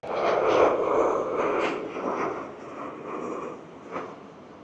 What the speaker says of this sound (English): Next arrival is WestJet flight 1100 coming in from Toronto, a 737-800.